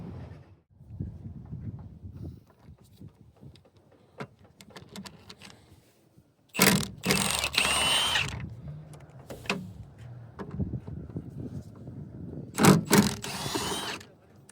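A ratchet loosening windshield Torx bolts on a junked vehicle in a salvage yard, with bursts of loud clicking ratcheting between quieter stretches of handling and faint metal knocks.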